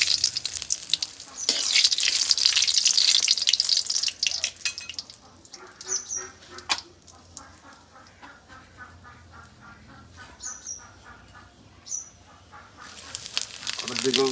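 Bay leaves and dried chillies hit hot white oil in a pan while tempering dal, giving a loud bright sizzle at first that settles into a steady crackle with a few sharp pops, and no talking.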